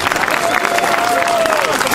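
Applause from the audience at an amateur theatre show in Benešov: dense, steady clapping fills the whole moment at close range, with a faint sustained tone running through it.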